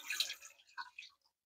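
Canned contents are poured into an Instant Pot, giving a brief wet splash and a few soft glugs and drips that fade to silence within about a second.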